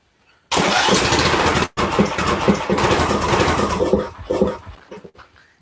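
A small engine with a leaky carburetor starts abruptly and runs loud and close, its roar dipping briefly before it settles into a steady, slightly uneven running note in a small-engine repair shop.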